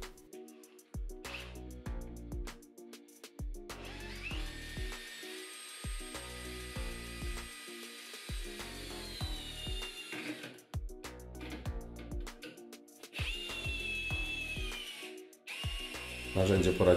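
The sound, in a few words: Bosch GSR 12V-35 FC cordless drill driver driving carpentry screw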